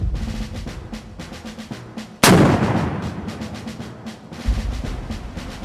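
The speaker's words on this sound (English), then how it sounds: "instructors demonstrate what the AT4 can really do." An AT4 anti-tank weapon is fired in a military training demonstration, a single sharp loud blast that booms and decays over a couple of seconds amid outdoor background noise.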